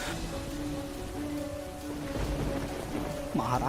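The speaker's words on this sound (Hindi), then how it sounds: "ये बारिश तो रुकने का नाम ही नहीं ले रहा है" Heavy rain pours in a stormy forest, a dense steady hiss with faint low tones beneath and a brief swishing sound near the end.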